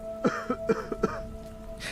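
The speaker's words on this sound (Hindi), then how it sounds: "तभी मेरे पीछे से मुझे किसी के खांसने की आवाज आई" Someone coughing in a string of five or six short, raspy bursts in quick succession, fairly close and alone, over a faint steady hum.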